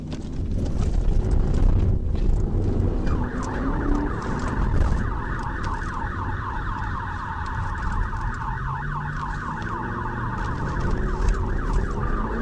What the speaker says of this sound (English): The trooper activated his siren briefly in an effort to get the driver's attention